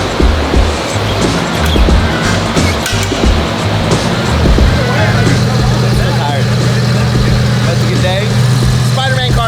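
A Lamborghini Huracan STO engine runs at a steady idle in a workshop, a loud low rumble with voices talking over it.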